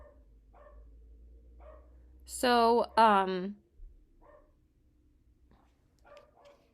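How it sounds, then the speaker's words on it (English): Dogs bark in a quick burst of two loud calls in the middle, with a voice speaking briefly before and faint background noise around it. "I don't know why they're barking."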